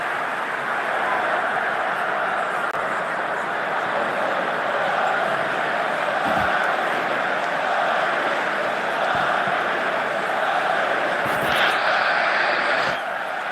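Stadium crowd noise in a football video game, a steady broad roar of massed fans held at an even level throughout, with a few faint thuds and brief swells near the end.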